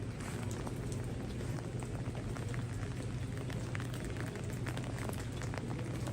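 Steady rain patters on the streets of Munich's old town, a dense, even hiss of drops with faint scattered ticks throughout.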